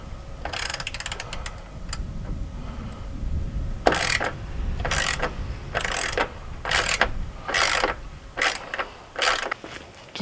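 A ratchet spins off 10mm headlight bolts on a Jeep Wrangler JL, giving bursts of rapid clicking that start and stop in short runs, close up with no talk.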